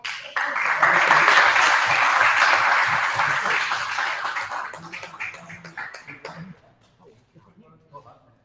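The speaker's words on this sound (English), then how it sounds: "Big round of applause for Alok." Audience applause after a name is announced at an event, loud and sustained for about six seconds, then fading to scattered claps and faint voices.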